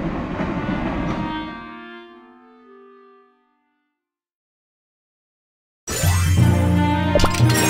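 The Holiday Express train in the video game Cookie Run Kingdom rumbles with tonal, whistle-like overtones that fade to silence, then returns abruptly loud with clattering and ringing tones.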